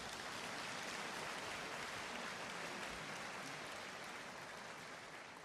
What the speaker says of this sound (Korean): 축하의 박수 주시기 바랍니다